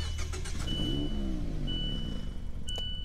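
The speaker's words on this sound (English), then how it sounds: "let's test out the startup sound" A Fiat 124 Spider in Lusso trim starts up with a steady mid-pitched engine running throughout, loud and close, with a faint high whine and a few brief clicks near the end.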